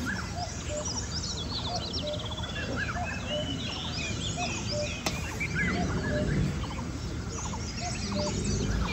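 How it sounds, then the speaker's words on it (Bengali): Many birds chirp and call in overlapping, busy song around a mountain hotel in Nagarkot, Nepal, a dense chorus of tweets and trills near and far with a low outdoor rumble beneath; no speech. "পাখির কিচিরমিচির শব্দ"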